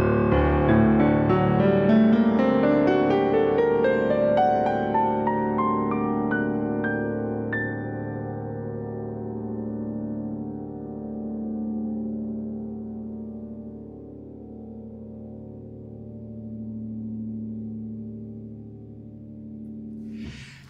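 A sustained orchestral chord from the piece Deep Field swells in with bright layered harmonics, then settles into a long, warm, slowly fading resonance that holds alone for about twenty seconds.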